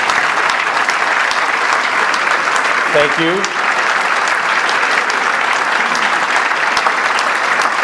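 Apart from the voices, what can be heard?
audience applause at police awards luncheon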